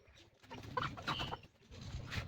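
Ducks calling nearby, a cluster of soft throaty quacks and murmuring calls that rise and fall over a couple of seconds against a quiet background.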